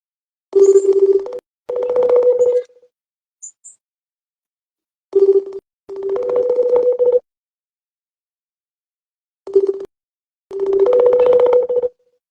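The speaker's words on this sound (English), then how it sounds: "I just heard it like it was dialing" Loud electronic telephone dialing tones sound in three repeating bursts, each a short beep followed by a longer tone, with silence between.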